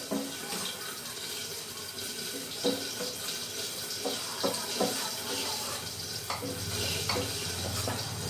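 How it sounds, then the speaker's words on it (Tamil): Spices fried and stirred in hot oil for ennai kathirikai (eggplant) kuzhambu, a steady close sizzle broken by scattered spoon scrapes and clinks against the pan, with no talking. "பச்சை வாசம் போக இந்த மாதிரி நல்லா நீங்கள் வறுத்துக்கணும்"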